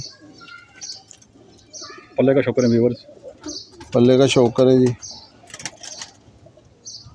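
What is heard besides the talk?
pigeons cooing and flapping wings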